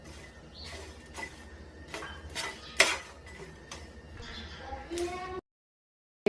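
Cumin seeds dry-roast in a pan for biryani masala, giving soft scattered crackles and scraping with a few sharper metallic ticks of a stirring spoon, under a voice talking, then abrupt silence.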